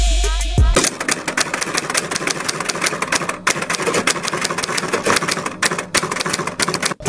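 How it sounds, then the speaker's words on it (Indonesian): A typewriter sound effect added during Filmora editing: rapid, continuous key clacking, loud and close, starting abruptly after a brief opening tone and running steadily with no talk. "karena di sini belum ada efek suara mesin ketiknya, akan saya masukkan"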